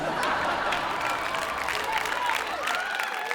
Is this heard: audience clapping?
yes